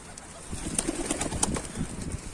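Mardin pigeons on a rooftop terrace make soft, close, fluttering wing flaps and brief scuffling bursts, moderately quiet against a light outdoor background.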